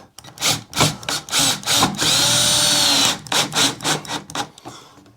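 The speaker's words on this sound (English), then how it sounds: "you can just go ahead and use a drill and get that on there" A power drill drives screws while a return register booster is fitted in a bedroom, with short whirring bursts, one sustained run of about a second, then more quick pulses, close and loud.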